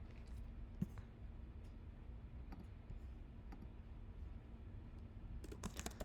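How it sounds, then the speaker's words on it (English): Typing on a computer keyboard during a Tableau tutorial: soft, sparse key clicks, faint and fairly distant under a steady room hiss, with a quicker cluster of taps at the end. "I do recommend typing it, not copying and pasting it. That's why I'm typing it."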